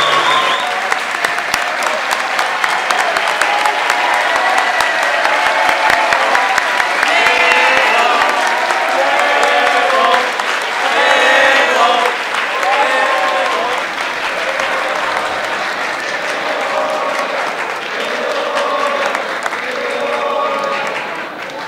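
Audience at a university campus festival gala applauding an award winner called to the stage, loud sustained clapping from a large crowd throughout with a few shouts mixed in.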